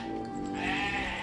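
A goat bleats a single drawn-out, wavering cry, close and clear with no talk over it.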